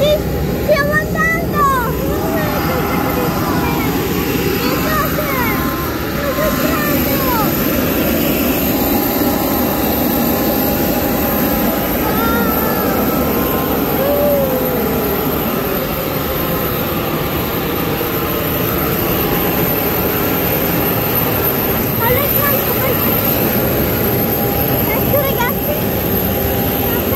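Steady, loud engine roar fills an airliner cabin, a continuous broadband hum through the whole stretch, with faint voices murmuring underneath.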